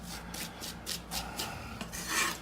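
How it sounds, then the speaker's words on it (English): Chopped garlic and salt are worked into a paste on a cutting board, giving a close, gritty rasping rub in repeated strokes, with no talk. "chopped up garlic that we are going to puree on the board"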